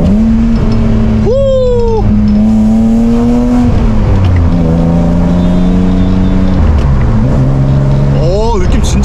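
Hyundai Veloster N fitted with a quickshifter, accelerating hard: a loud, close engine note climbs through gears with quick shift breaks and pitch drops, revving again near the end, while someone speaks excitedly over it.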